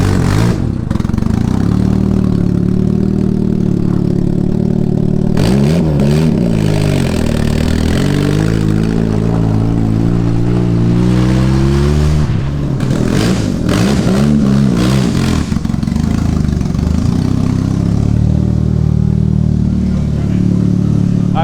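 A pickup truck's engine roars loudly throughout the joyride, with repeated rising and falling revs and gear changes in the middle stretch before it settles back into a steady, strained drone.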